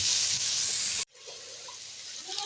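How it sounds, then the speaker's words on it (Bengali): Tender bottle gourd peel sizzling in a frying pan, a loud steady hiss that drops away abruptly after a second, then returns softer with light stirring. "এইভাবে আর একটুখানি সময় আমি ভেজে দিতে থাকবো"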